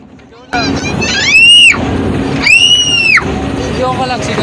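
Riders scream on a drop ride roughly five storeys high at Enchanted Kingdom, two long loud rising screams over constant rushing ride and wind noise.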